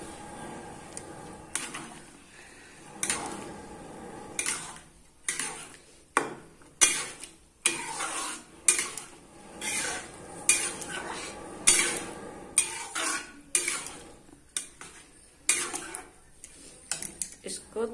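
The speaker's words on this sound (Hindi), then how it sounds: "अब इसमें हम डाल देते हैं ये जो पकाया हुआ दाल है" Cooked dal being added to fried masala in a pot, a series of irregular metallic clinks and scrapes of a utensil against the pot, close and fairly loud with quieter gaps between.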